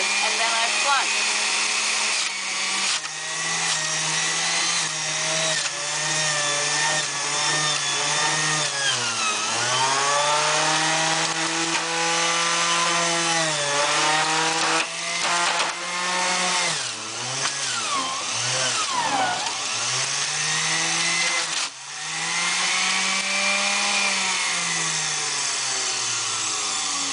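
Electric juicer running on high while spinach is plunged through it, a loud continuous whining motor roar that dips and surges in pitch as the greens are pushed in, filling the whole stretch without a break.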